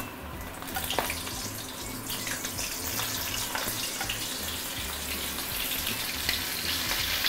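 Prawns with the eyes left in, dropped into smoking-hot oil at 180 degrees, give a dense, steady, hissing sizzle with scattered sharp crackles, loud and continuous with no talking.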